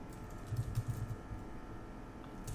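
Quiet, close computer keyboard typing while editing HTML form code, a short cluster of soft key taps in the first half, then faint room hum.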